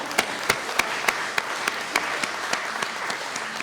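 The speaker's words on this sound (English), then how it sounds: "let's applaud to Yamaha" Audience at an international piano competition applauding for the sponsor Yamaha, a sparse crowd clapping with distinct evenly spaced sharp claps standing out from a softer spread of applause.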